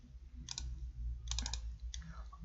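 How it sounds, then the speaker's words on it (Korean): A computer keyboard Enter key press followed by a mouse double-click during spreadsheet work, a few faint, sharp clicks in quick succession over low background hum. "엔터를 누르고 더블 클릭을 했더니"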